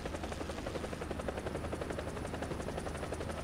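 A video game attack helicopter chopping steadily, its rotor thumping in a dense, continuous drone that fills the clip with no voices.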